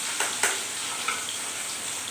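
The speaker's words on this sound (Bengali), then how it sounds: "মাছগুলো ভাজা হচ্ছে, এই পিঠ হয়ে গেছে আর সেকেন্ড পিঠটা দেওয়া হয়েছে" Fish frying in a pan, turned to cook the second side, gives a steady, moderately loud sizzling hiss with a few brief crackles and pops, and no talking.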